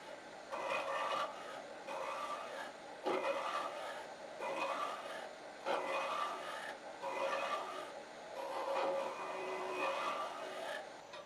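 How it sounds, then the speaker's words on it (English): A gooseneck hollowing tool cutting out the inside of a wood-turned box on a lathe gives a steady, close rasping scrape that pulses in repeated passes of about a second each, loud and continuous, with no talk. "This is a gooseneck hollowing tool that I'm using to make quick work of hollowing out the inside of the"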